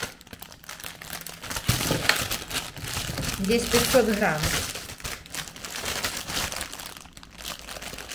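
A crinkly plastic packet of asparagus being handled, rustling and crackling steadily close by under a speaking voice.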